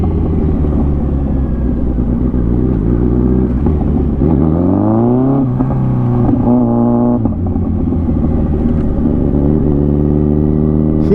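Car engine revving as gears are shifted without using the clutch: steady close engine drone, a blip of throttle sweeping the pitch up and down, then settling back to a constant hum, no talking.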